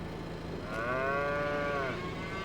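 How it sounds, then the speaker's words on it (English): A cow moos once in Farming Simulator 22 on a cattle farm: a single long, rising-and-falling bellow lasting over a second, fairly close, over a steady low farmyard hum. "We have a cow in the way."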